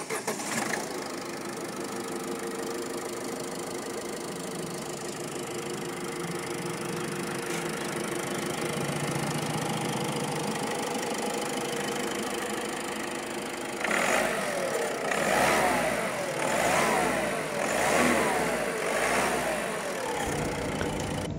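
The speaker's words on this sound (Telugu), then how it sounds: "ఇంజిన్ నాయిస్ ఎలా ఉంది" A used second-hand car's engine idling steadily at close range, then revving in several rising and falling bursts toward the end, with little else heard.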